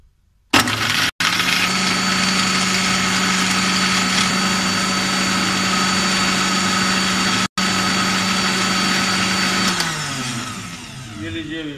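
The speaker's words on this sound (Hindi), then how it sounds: "तो इसको करते हैं ब्लेंड।" A blender whirs loudly and steadily for about ten seconds, blending black cold brew coffee with ice cubes, with a brief cut near the middle, then winds down at the end.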